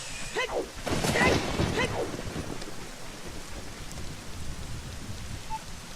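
Steady rain with a low thunder rumble in the Zelda Ocarina of Time video game, a constant wash of game weather sound under faint talk, with no music playing.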